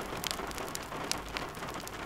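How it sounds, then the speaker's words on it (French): Rain falling steadily, a dense continuous patter of drops on a surface with a few sharper splashes, even and unbroken. "et la pluie tombait."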